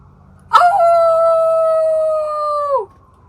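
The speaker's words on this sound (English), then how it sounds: "Coyote action." A single long, clear howl rings out close by, starting with a sharp yip and holding a steady pitch for about two seconds before dropping off.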